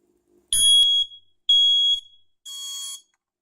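A Kidde I9080EU smoke alarm, set off with its test button, gives three loud, piercing, high-pitched beeps, evenly spaced with brief silences between them.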